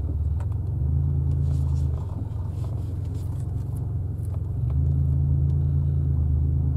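A 1997 Buick Century derby car's engine rumbles steadily and close by while driving slowly, a low droning hum that dips briefly then swells back louder, with no talking.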